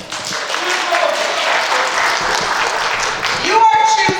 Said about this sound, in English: Give me a clap if I should.